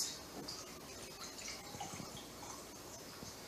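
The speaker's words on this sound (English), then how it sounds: "take the cap off of our can here, and then slowly pour your biodiesel out" Biodiesel pours slowly out of a can, giving a faint, steady trickle with soft dripping in a quiet space.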